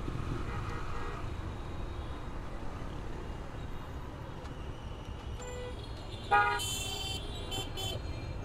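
Car horns honk in a Dhaka traffic jam near the Kalshi flyover, a cluster of short toots rising over steady low road rumble late on, with more distant horns scattered earlier.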